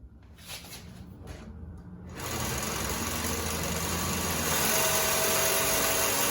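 A cylinder arm walking foot sewing machine starts with a few soft clicks, then runs in a continuous rapid mechanical hum that grows slightly louder partway through.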